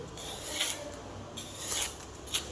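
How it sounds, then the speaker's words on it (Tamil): Skin being peeled off a bottle gourd in a home kitchen, a few soft scraping rasps in separate strokes, close and quiet, with no talking. "அந்த க்ளீனாக தோல் எடுத்துடலாம்"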